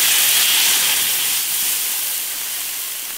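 Water poured into a hot wok bursts into a loud, close hiss of steam that slowly fades over a few seconds.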